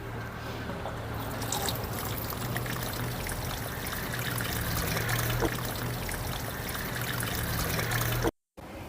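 Garden plants being watered: a steady, close stream of pouring, trickling water runs for about eight seconds, then cuts off abruptly and resumes briefly.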